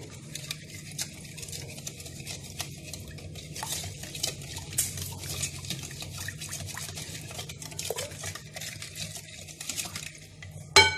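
Continuous wet stirring and scraping of batter in a bowl, with light clinks of a utensil against the sides, close up and fairly quiet.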